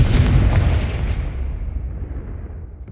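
A Confringo spell blast in Hogwarts Legacy erupts as a heavy, booming explosion with a sharp onset, then a long rumbling roar that slowly fades away, with no talking.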